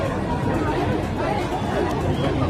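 A large crowd of demonstrators moving down through the streets of Nice toward the sea, a dense, continuous wash of overlapping voices and chatter with no single sound standing out.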